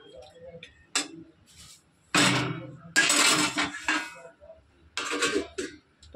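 Metal clinks and clatters as a lid goes onto a pot of potatoes with added water, several bright knocks and scrapes close up with quiet gaps between them.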